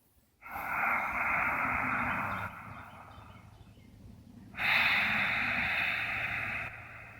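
Breathing through a slightly restricted throat gives two long, soft, airy hissing breaths, one in and one out, close and steady, like gentle snoring or an ocean breeze.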